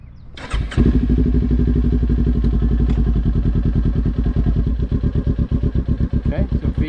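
A motorcycle engine starts up and settles into a steady, close, chugging run with a rhythmic pulse as a beginner rider gives a little throttle and pulls away.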